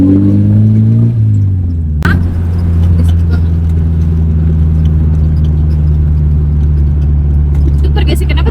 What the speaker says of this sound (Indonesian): Itu pergesekan apa tuh? Itu knalpotnya.